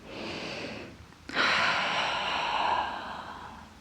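Slow, deep breathing during a yoga side-bend stretch: a soft airy exhale, a short pause, then a longer, louder breath close to the mic with no talking.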